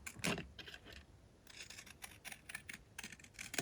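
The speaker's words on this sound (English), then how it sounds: "I can maybe use these scalloped scissors to create like a fun edge here" Scalloped craft scissors cut the edge of a paper recipe card, giving a run of quick, crisp snipping clicks in short bursts at close range, with no talk.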